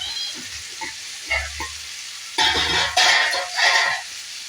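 Tomatoes frying soft in a pan for dry fish curry, a close sizzle with scraping strokes of stirring that swell into louder bursts of crackling toward the end.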